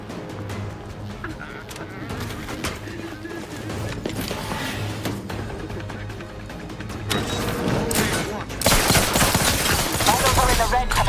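Rapid gunfire bursts from a firefight in the video game The Outer Worlds 2, loud and dense, growing heavier toward the end with overlapping shots and impacts under game sound.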